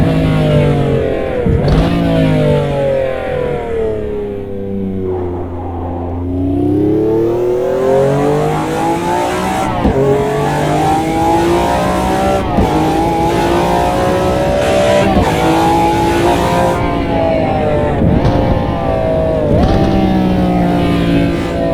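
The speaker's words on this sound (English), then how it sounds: "enjoy the sound of that BMW V12 engine" BMW V12 road car engine in the racing game Automobilista 2, revving loud and continuous for over twenty seconds, pitch sweeping up through the gears with sharp drops at each shift, no talking over it.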